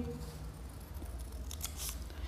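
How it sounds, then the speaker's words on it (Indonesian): Scissors snipping through a folded paper circle during a children's paper-craft lesson, a few short crisp cuts bunched near the end over a steady low background hum, with no talking. "Setelah lipat jadi dua, kita gunting lagi."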